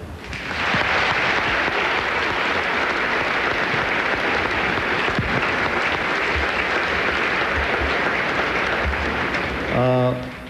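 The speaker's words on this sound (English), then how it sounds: "he deserves a round of applause" Loud, sustained crowd applause at a tennis tournament final, a dense wash of clapping from a large stadium audience that holds steady throughout and stops abruptly near the end.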